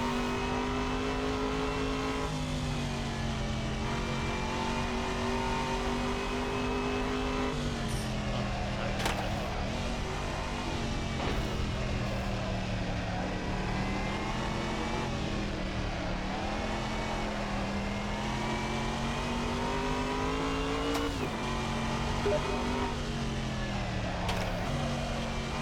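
A Mustang's engine in a racing video game, a continuous close roar that rises and falls as the car revs and shifts through gears over the whole stretch.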